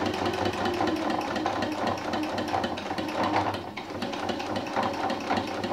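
An electric sewing machine stitches fabric for a cathedral window Christmas ornament, running continuously with a fast, even mechanical whir and rattle close to the microphone.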